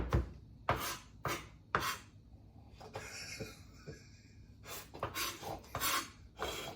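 Knife blows mincing ingredients on a board for cabbage kimchi, an irregular run of sharp, close chopping strikes with short pauses and some scraping, no talk.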